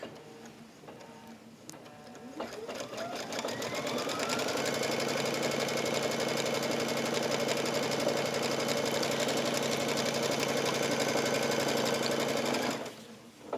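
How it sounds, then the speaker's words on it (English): A Brother embroidery machine stitches a border piece onto an in-the-hoop pillow with a rapid, even mechanical chatter. It starts up, runs steadily for several seconds and then stops. "I'm just going to lower the foot, and it's going to stitch it on"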